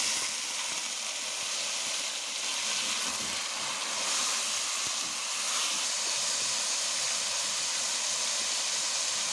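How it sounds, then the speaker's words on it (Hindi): A cooking pot for quail yakhni pulao hisses and sizzles steadily as the quail goes in, giving a continuous bright, close frying sound with no talk over it. "अब हम इसमें ये बटेर ऐड कर देंगे।"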